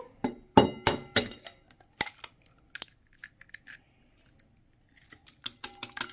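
Eggs knocked and dropped into a bowl for a savory cheese, pear and honey tart, a run of sharp clinks and taps early, then sparser knocks and clicks, close and clear with no talk.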